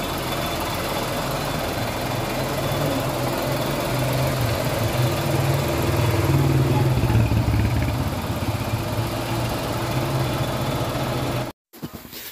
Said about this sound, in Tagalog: ito na yung makina ng Suzuki Espresso